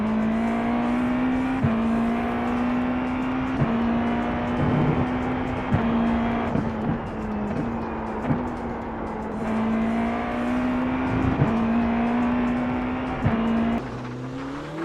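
Race car engine in the iRacing sim, a loud sustained drone holding steady revs with brief dips at gear shifts, heard alone and close throughout.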